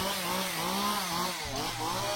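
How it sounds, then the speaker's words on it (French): A petrol chainsaw wielded by an actor in a haunted attraction buzzes loud and close, its engine wavering in pitch as it revs and dips, with no talking over it. "c'est jamais très bon quand tu as un type qui te suit avec une tronçonneuse"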